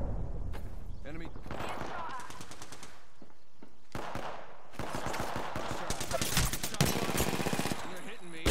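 Rapid automatic weapon fire in the video game Apex Legends, loud bursts of rattling shots repeating across the clip with brief pauses and game sound effects between volleys.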